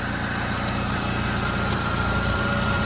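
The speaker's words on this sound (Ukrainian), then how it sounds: "Робота двигуна" A Skoda Octavia Tour 1.6 MPI engine idles steadily up close, a continuous low rumble with a faint rhythmic knock and vibration throughout, no voices.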